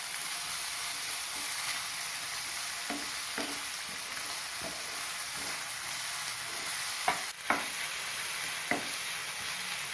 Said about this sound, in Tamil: தக்காளி நல்லா டேஸ்ட் ஆகிற வரைக்கும் வதக்கணும்